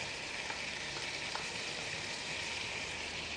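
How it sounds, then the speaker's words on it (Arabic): Food fries gently in a pan for a Ramadan parsley tajine, a soft, continuous sizzle with faint crackles, steady and fairly quiet throughout with no talking. "خلوه يتقلى مليح"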